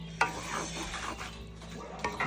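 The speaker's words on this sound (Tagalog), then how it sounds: "kailangan dito inahalo-halo muna" Spoon stirring a sizzling dish of shrimp and meatballs in a pan, soft scraping and scattered clinks over a steady hiss, with a few sharper metallic taps.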